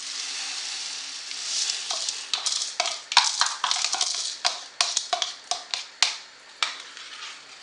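Lentils for Turkish lentil soup cook in a pot with a soft simmering sizzle, broken by a string of sharp, irregular ticks and pops close by.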